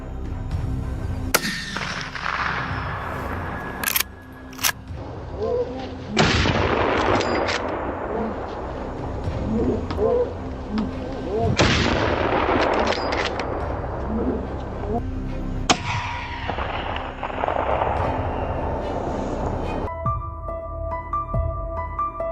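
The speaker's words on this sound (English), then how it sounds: "Simultaneously, from all sides, gunfire erupts, marking our absolute dominance." Bursts of gunfire in a farm setting against wild boars, sharp volleys of shots repeating several times and ringing out over a steady background, with some voices.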